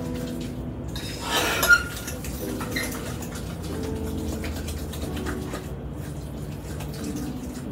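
A fork mixing pie filling in a bowl, with clinking and scraping against the dish, one brief louder clatter early, then softer steady stirring without talk.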